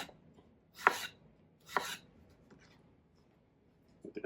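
A kitchen knife chops through watermelon for a catering-style fruit platter, giving two crisp, close cuts about a second apart, followed by quieter handling and another chop at the end.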